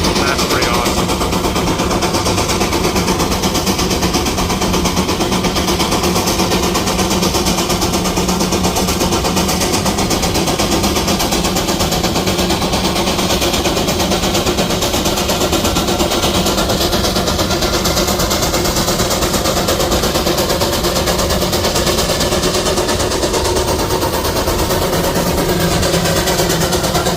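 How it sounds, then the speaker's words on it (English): Steam engine idling at a plow day gathering, a continuous loud rumbling chug with steady mechanical rattle throughout, heard close and unbroken, with people talking over it. "Steam engine made it to the end and he's sitting there letting her cool down or something."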